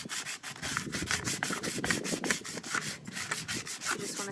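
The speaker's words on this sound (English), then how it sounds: "You just want to sand all over so that your paint sticks better" Steady back-and-forth rubbing of 220 grit sandpaper over a white tumbler cup, a close, continuous scratchy rasp in quick strokes with no talking.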